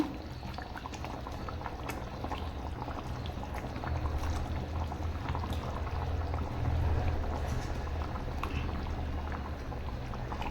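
Catla fish curry bubbling in a wide pan, a continuous close boil with a dense bed of small bubbling and gurgling that swells slightly louder midway, with no voices.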